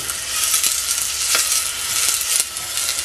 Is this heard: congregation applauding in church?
no